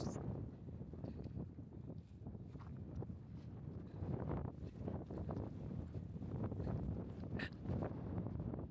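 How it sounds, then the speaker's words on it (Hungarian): Wind buffets the microphone in low, rough gusts, a continuous roaring rumble that swells and dips with no voices. "és ilyen szél van"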